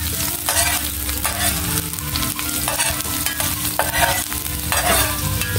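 Ginger and garlic sauté in a pan, giving a steady sizzle broken by rhythmic bursts of scraping and stirring about once a second, with no speech.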